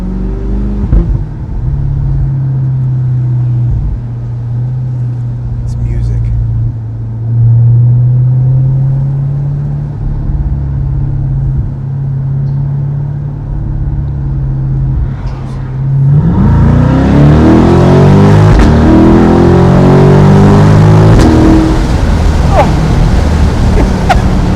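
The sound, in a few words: C8 Corvette with AWE touring exhaust revving and accelerating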